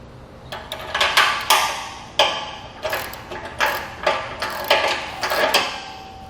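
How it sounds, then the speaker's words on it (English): Socket wrench with a 9/16 socket tightening bolts on a heavy boat two-tier trailer, giving a series of sharp metallic clicks and ratcheting bursts in an irregular rhythm, close and fairly loud with no talk. "I've been using, for the most part, the same socket and wrench throughout a majority of this installation."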